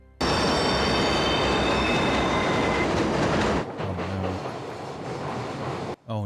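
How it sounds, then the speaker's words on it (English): A train from the TV show Arrow rumbles past loudly and steadily with a rushing, clattering roar. The sound shifts partway through and then cuts off abruptly at the end. No one talks over it. "Oh no, an empty train?"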